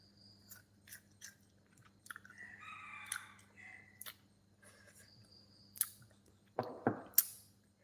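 Quiet crisp crunches and clicks of crunchy food being chewed close up, in scattered bursts with short pauses, growing louder toward the end.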